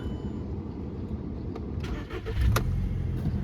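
A Volkswagen Golf 5 with a 1.6 petrol engine cranks briefly and catches quickly, then settles into a steady idle, close and moderately loud.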